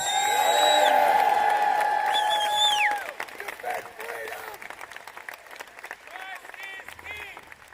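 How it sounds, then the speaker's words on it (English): A protest crowd opposing an abortion bill cheers loudly, with shrill whoops and whistles at first, then settles into scattered clapping and shouts. "Let's get one big more cheer for life and to reject this bill"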